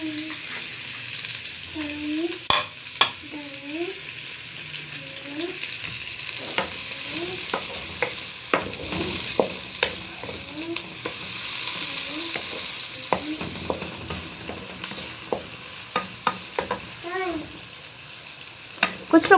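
Onions frying in mustard oil for a cabbage and chicken curry, a steady close sizzle with repeated scrapes of a spoon stirring the pan, heard alone without talk.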